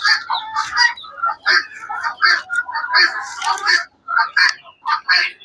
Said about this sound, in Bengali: এখানে আমাদের কিছু দেশি মুরগি আছে।